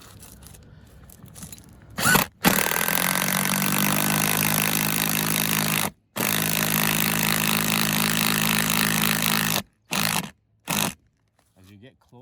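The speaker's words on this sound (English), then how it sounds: "I'm gonna go ahead and screw this in." A screw being power-driven through IronRidge FlashFoot roof flashing, a loud continuous whirring drive of about three and a half seconds, followed by a second long run and a few short bursts as the fastener is snugged down.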